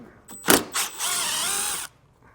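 A power drill runs in short bursts, then a longer steady whine as it backs out a 10mm screw at the rear of a 2023 Jeep Grand Cherokee, close and loud, alone without talk.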